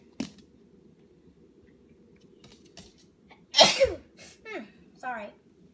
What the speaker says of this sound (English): Gosh, I'm going to sneeze.